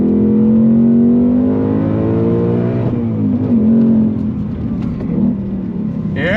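A 2024 Ford Mustang Dark Horse with a 6-speed Tremec manual accelerates hard on a banked track. The loud engine note climbs steadily, drops at a gear change and then pulls again, with faint voice-like sounds near the end.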